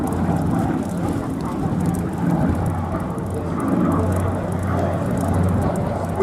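A PBY-5A Catalina flying boat with floats deployed passes over the Duxford airfield, its piston engines producing a steady, fairly loud low drone and rumble that holds level throughout with no talk.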